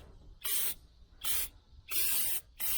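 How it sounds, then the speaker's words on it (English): Rust-Oleum truck bed coating sprayed from an aerosol can in four short bursts, each a loud, close hiss of under half a second to about half a second, separated by brief quiet gaps, with no voices. "So we got this truck bed coating, Rust-Oleum brand from Walmart, like 11 bucks. So we're gonna spray this"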